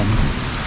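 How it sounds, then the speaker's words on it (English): Heavy rain pours down in a dense, continuous roar on a hiking trail around the Cades Cove Loop in the Smoky Mountains, loud and close with no voices. "you can see it is coming down in buckets"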